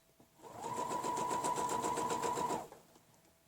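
A longarm quilting machine stitches part of a modern feather ruler pattern, its fast steady mechanical hum running evenly for about two seconds before stopping, close and clear with no talk.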